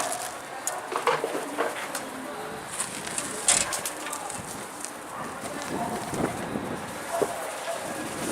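Pigeons coo softly in brief calls amid wind buffeting the microphone and scattered rustling and handling noises, with a voice heard faintly at moments.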